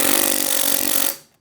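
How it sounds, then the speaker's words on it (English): A slide hammer works on a 1977 Honda CT70 motorcycle, giving a dense, loud metallic scraping and knocking that runs steadily for about a second, then cuts off abruptly and decays into silence. "that little slide hammer does a great job"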